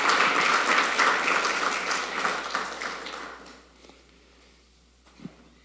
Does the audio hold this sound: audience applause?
yes